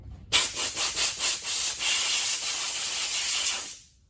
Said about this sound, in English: I'm gonna use brake cleaner actually because it's right.